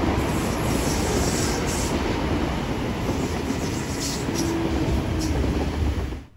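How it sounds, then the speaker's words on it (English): An Endeavour passenger train from Moss Vale in the Southern Highlands rolls steadily past near Sydenham, its wheels and carriages giving a loud, continuous rumble with faint clatter that fades at the end. "an Endeavour train that would have come all the way from Moss Vale in the Southern Highlands."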